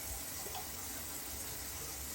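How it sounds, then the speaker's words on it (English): Cold water runs from a bathroom sink tap as a face is rinsed after a double-edge razor shave, a steady close hiss and splash with no voices. "rinse my face off again with cold water"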